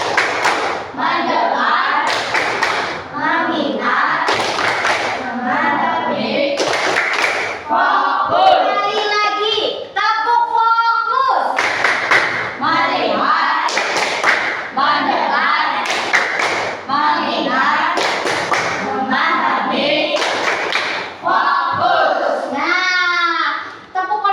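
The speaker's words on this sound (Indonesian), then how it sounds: "Ya, yuk tepuk fokus." Classroom of children led by a teacher in the rhythmic tepuk fokus clap chant, sharp patterned claps in short counted bursts alternating with young voices chanting and an adult speaking.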